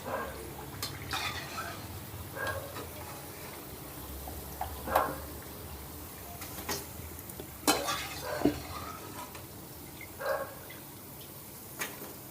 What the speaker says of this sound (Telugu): ఇప్పుడు వీటిని తీసి మనం ముందుగానే ప్రిపేర్ చేసి పెట్టుకున్న పాకంలో వేసేసుకుందాం.